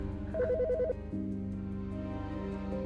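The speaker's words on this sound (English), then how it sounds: "The fucking phone." A telephone rings inside the video game Autopsy Simulator, giving a short warbling electronic trill followed by a steady ringing tone, clear and alone over a low hum.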